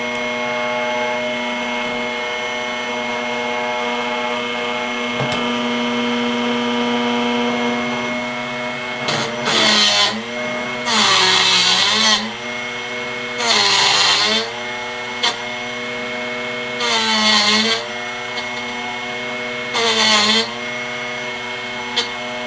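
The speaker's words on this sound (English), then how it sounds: "Realign it to push that drill bit down in a little bit further and run it through again." A steady, loud motor whine from a Drill Doctor sharpener runs throughout, then gives way to repeated short bursts of harsh grinding as a drill bit is worked against it.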